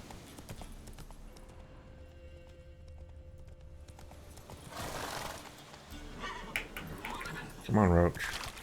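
Roach, a horse in The Witcher 3, clip-clops with a steady run of hoof beats that rises louder partway through, then a sharp neigh near the end, with a person talking over it.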